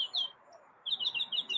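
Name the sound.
mockingbird chirping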